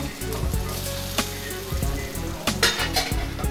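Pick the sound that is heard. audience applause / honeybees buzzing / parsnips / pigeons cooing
parsnips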